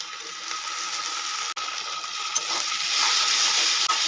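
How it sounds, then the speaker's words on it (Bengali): Tomato with ginger and garlic paste sizzles steadily in a hot pan, a bright continuous frying hiss broken by a couple of brief stirring scrapes, close and fairly loud. "টমেটো, আদা ও রসুন বাটা খুব ভালো করে মিশিয়ে নিয়ে আমি কয়েক মিনিট ধরে রান্না করে নেব"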